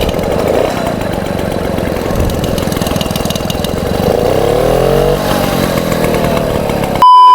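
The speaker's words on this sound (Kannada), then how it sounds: "ಇದನ್ನ ಹಿಂಗೆ ಜಸ್ಟ್ ಹಿಂಗೆ ಎಳೆದಿಟ್ಕೊಂಡು ಪೆಡಲ್ ಮಾಡಿ ಇದನ್ನ ಬಿಟ್ಟಾಗ ಗಾಡಿ ಸ್ಟಾರ್ಟ್ ಆಗುತ್ತೆ" A Suvega Super 50 moped engine, pedal-started, catches and runs with a buzzing small two-stroke chatter that rises and revs briefly, loud and close, with no voices.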